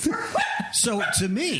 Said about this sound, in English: that's my dog's barking at the neighbor's dogs